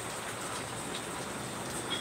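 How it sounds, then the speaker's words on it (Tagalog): Heavy rain in the Philippines pours steadily, a dense continuous hiss of drops hitting surfaces, with no voices. "Malakas ulan dito, Witching."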